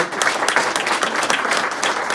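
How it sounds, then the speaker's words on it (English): Audience applause at a police heroism press conference, dense steady clapping from a crowd indoors, fairly loud and close, lasting throughout without speech over it. "Give her a round of applause."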